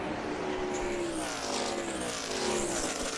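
NASCAR race cars at the 2009 Stater Bros 300 roaring steadily around the track, a dense loud engine drone with a rising then falling pitch as cars accelerate out of a corner and pass, continuous for a few seconds.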